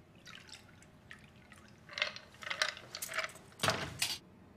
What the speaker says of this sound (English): Now, when I pour, you'll note it's got a beautiful,